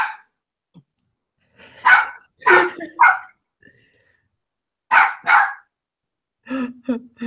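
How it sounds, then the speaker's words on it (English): A dog barks nearby in loud, irregular bursts, single and double barks separated by silence, ending with a few quicker, higher yips. "He's just barking at me"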